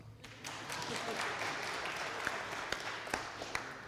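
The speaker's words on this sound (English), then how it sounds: "please applaud." Audience applause at a Freedom Sings show, a steady wash of clapping at moderate level with a few sharper individual claps standing out near the end.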